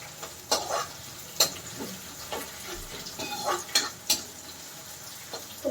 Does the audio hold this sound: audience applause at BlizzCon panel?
no